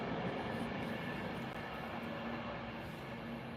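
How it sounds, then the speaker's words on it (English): A train passing near an outdoor livestream spot, a continuous rumbling roar with a faint tonal hum, steady and fairly close throughout, no speech over it. "I'll just wait for the train to pass by."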